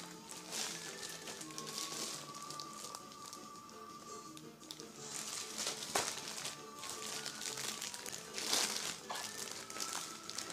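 Plastic wrapping crinkles and crackles as a new school pencil case is opened, a steady close rustle lasting throughout with a few sharper crackles and tearing sounds.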